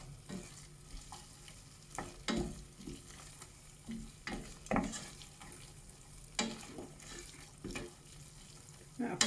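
Ground spices frying in a pan for a garlic chilli soup, a quiet sizzle broken by repeated scraping strokes of a spoon at an uneven rhythm, close by with no talk.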